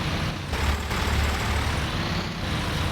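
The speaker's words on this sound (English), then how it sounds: "since it's our own new tractor" A new farm tractor's engine keeps running as it is parked, making a continuous, near, low diesel rumble with no break.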